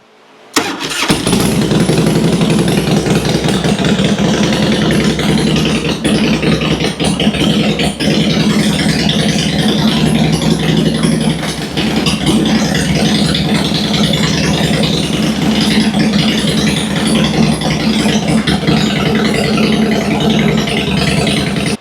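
A used Harley-Davidson motorcycle engine cranks and fires up, then settles into a loud, steady, rumbling idle that continues close by for about twenty seconds with no talking.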